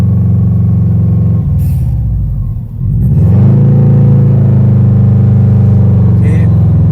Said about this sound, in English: don't rev it too much in first